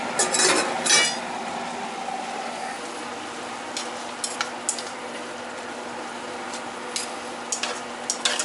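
A spoon stirs rice and filling mixture in a mixing pot for stuffed green peppers, with a few louder scrapes and clinks at the start, then soft steady mixing and occasional light taps.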